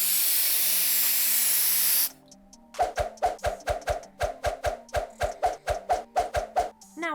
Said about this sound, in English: Now we're going to use the Morphe Luminous setting spray